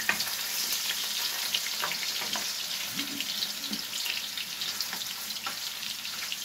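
Ginger and garlic fry in a hot pan with a steady, close sizzle and faint stirring scrapes throughout, no talking.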